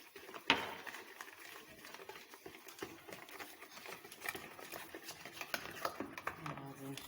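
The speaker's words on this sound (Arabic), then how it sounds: "غادي نخلط كلشي." Basbousa batter with milk and coconut is stirred in a bowl, giving soft wet scraping and patter close by, a steady irregular mixing noise with small clinks.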